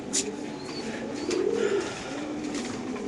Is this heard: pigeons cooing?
yes